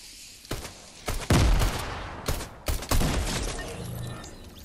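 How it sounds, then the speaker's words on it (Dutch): Grenades going off in Fortnite: a quick run of sharp, loud blasts with booming low-end bursts, several in close succession over a few seconds, with no talking in between. "Waar kwam die granaten vandaan?"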